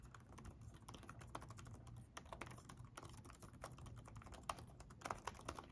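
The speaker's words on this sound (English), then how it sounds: "One thing I like about the Dell XPS keyboard is that it's very muted when typing." Muted typing on a Dell XPS 13 (2021) laptop keyboard, a steady run of soft, close key taps with occasional slightly firmer strokes and no talking.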